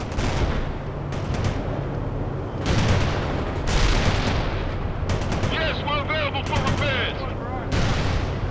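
Sustained battlefield gunfire in the World in Conflict strategy video game, with machine-gun bursts and heavier booming shots layered into a constant loud roar, alongside radio-style voice chatter.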